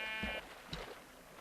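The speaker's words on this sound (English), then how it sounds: "But I also see a sheep." A sheep in the Minecraft video game gives a couple of short synthetic bleats, close and moderately loud over faint game ambience, alone without talk.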